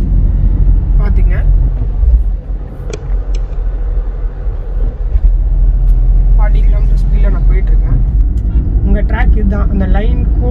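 A car travels through city traffic in third gear at around 40 km/h, filling the cabin with a steady, close engine and road rumble while someone talks over it.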